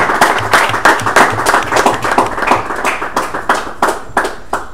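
An audience claps and applauds at a Bible quiz, a brisk, loud burst of many hands with no voices.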